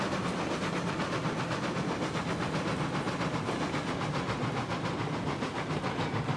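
Steam locomotives hauling coal and iron freight wagons in Railroads Online, a continuous loud hissing chuff with rapid regular beats throughout and no voices.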